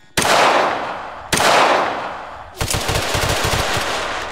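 Gunfire in a Roblox hood roleplay video game: two loud, close booming shots with long decaying tails, then a rapid burst of automatic fire, with no talking.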